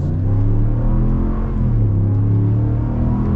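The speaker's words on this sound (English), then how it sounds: "Okay, let's get our full-blown acceleration here." Ram truck with a 5.7 Hemi eTorque V8 under full acceleration, a loud, steady engine roar that climbs in pitch through the rev range, heard from inside the cab with no talk.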